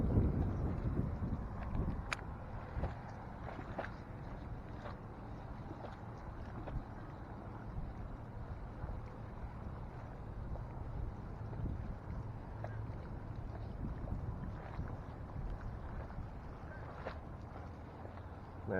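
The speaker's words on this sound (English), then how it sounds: "It's pretty windy out here today." Strong, steady wind buffets the microphone out on the water during a bass fishing trip from a boat, a continuous low roar with occasional small knocks and no talking.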